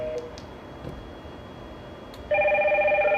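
A Hikvision modular intercom indoor station starts ringing with an incoming call from an outdoor button, a loud steady electronic warbling tone that begins abruptly after quiet room noise and a few faint clicks.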